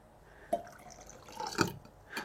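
Water containing methylene blue indicator is poured together with another chemistry solution, giving soft, quiet trickles and a few distinct drips and splashes in a still room.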